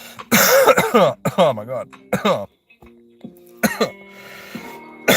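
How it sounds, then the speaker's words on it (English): Several harsh, close coughs in quick bursts from a person with a cold, mixed with brief exclamations and short spoken remarks between fits. "I don't mean to be coughing and snotting and everything."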